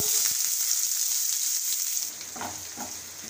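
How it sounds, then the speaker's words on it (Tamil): Onion and green chillies sautéing in oil with fennel seeds, a loud close hiss of frying that fills the first two seconds, then eases to a softer sizzle with a couple of stirring knocks, no talking. "இது கூட வெங்காயமும் பச்சை மிளகாயும் சேர்த்து நல்லா வதக்கி விட்டுறேன்"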